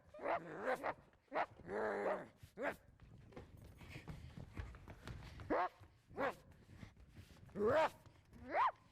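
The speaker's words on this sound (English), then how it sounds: "It's a dog." A dog sound effect in a middle school stage production of Stuart Little: repeated barks, yips and whimpers in short bursts, fairly faint, heard in a hall with light background noise.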